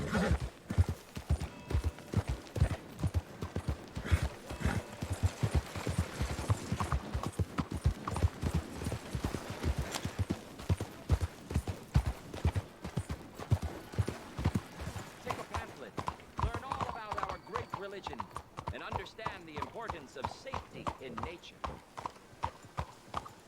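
Steady, rhythmic hoof clip-clops of a horse walking in Red Dead Redemption II continue throughout, with people talking over them partway through.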